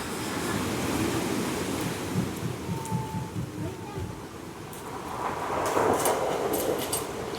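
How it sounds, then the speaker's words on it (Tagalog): Big ocean waves crash and surge in a continuous roar against wind noise, with heavier breaking swells building toward the end. "Malalaki ay sa alon dito."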